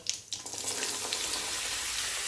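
Mustard seeds, cumin and asafoetida crackle and sizzle steadily in hot oil, a dense close-up frying hiss with no talk, the start briefly quieter before the spitting settles into a continuous bed.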